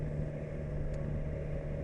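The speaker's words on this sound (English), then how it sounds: "the other one you can hear all the time is this burbling exhaust" Burbling exhaust of a 2019 BMW S1000 XR motorcycle heard while riding, a steady low rumbling drone with a constant deep tone, continuous and close.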